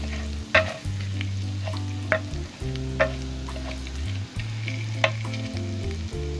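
Ginger and garlic fry in hot ghee for a potato and egg dish, giving a continuous crackling sizzle broken by several sharp scraping clinks of a stirring spoon against the pan.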